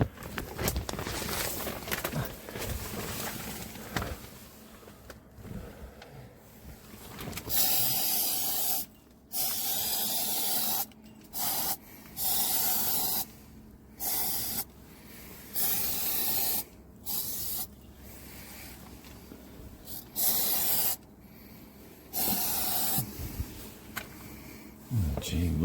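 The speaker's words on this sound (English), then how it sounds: "I'm not sure how good it is spraying insect killer inside your greenhouse" Repeated hissing bursts of an aerosol insect killer spray inside a greenhouse, each lasting a second or two with short gaps between, fairly close, continuing steadily.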